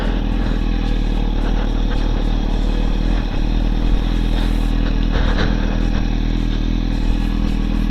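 Yamaha MT-10 motorcycle fitted with a Pipe Werx exhaust, riding with a steady, loud engine drone and exhaust rumble close by, plus light rattling and wind noise throughout.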